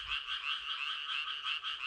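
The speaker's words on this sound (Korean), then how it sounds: "암컷의 등장으로 수컷들의 소리가 커졌습니다" Male tree frogs calling loudly to attract an approaching female, a dense, continuous chorus of rapid, pulsing croaks close by, with no voices.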